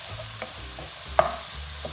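Mushrooms and thyme sizzle softly in a pan while being stirred, with quiet scrapes and one sharper clack of a spoon against the pan, faint and close, no voices.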